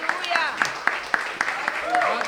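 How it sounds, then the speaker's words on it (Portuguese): A few sharp claps ring out at a steady, evenly spaced rhythm during a family church service, with voices and shouts carrying over them throughout. "Aplaude ao Senhor"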